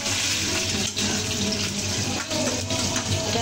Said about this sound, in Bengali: ডাল এদিকে ফুটছে চটপট ঝটপট